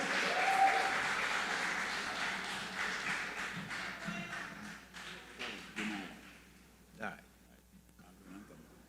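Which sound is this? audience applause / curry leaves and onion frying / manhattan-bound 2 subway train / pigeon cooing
audience applause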